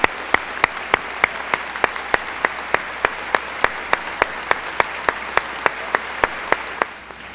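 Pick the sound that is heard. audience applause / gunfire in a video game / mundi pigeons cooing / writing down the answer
audience applause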